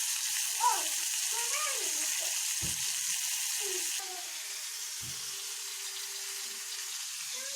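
Cumin seeds fry in hot oil in a pan, making a steady, even sizzling hiss throughout, with faint voice-like sounds drifting in the background.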